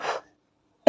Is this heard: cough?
yes